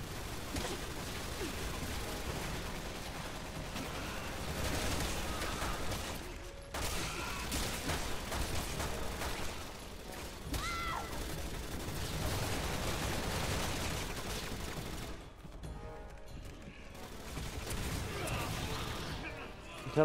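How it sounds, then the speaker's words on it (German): Dense, rattling gunfire and explosive bursts in Resident Evil 6 come in waves over a constant noisy backdrop, with brief lulls between volleys. "Von wo kommen die Schüsse, verdammt?"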